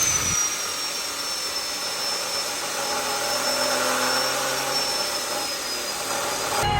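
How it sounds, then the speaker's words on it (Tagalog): An exhaust pipe is welded at an exhaust fabrication shop, giving a loud, continuous hissing buzz with a thin high whine that holds steady from close range throughout, with no voices. "Wini-welding na ni sir."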